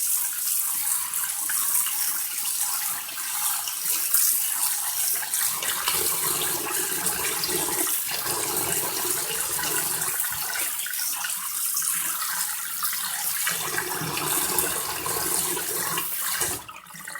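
Water runs steadily from a kitchen tap while noodles are rinsed and rubbed under the stream for a cold bibim naengmyeon dish, a continuous close splashing rush with small shifts in flow.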